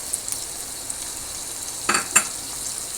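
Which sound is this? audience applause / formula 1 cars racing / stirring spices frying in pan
stirring spices frying in pan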